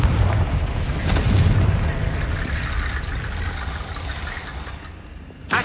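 A Confringo spell in Hogwarts Legacy bursts with a loud fiery boom, then a rumbling roar fades over several seconds before a small final pop.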